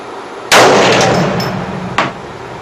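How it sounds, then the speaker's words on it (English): A single loud, close rifle shot from an AR-platform rifle fitted with a muzzle brake, a sharp blast with a long ringing decay, then a second sharp crack about one and a half seconds later. "No, let's shoot it like this first."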